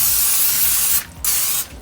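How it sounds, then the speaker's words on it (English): Non-stick cooking spray hisses from an aerosol can onto parchment paper in two bursts: a longer close, loud spray, a brief pause, then a second short spray. "I'm going to go in with a little bit of non-stick cooking spray because I don't want my Krabby Patties to get stuck to the paper."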